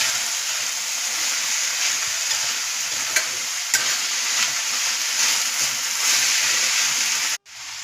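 Cabbage leaves stir-fried in hot oil for a mixed-dal cabbage curry, giving a steady close sizzle and hiss with a few faint scraping stirs, ending in a brief cut near the end.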